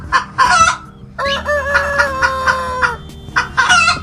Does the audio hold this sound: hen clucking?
yes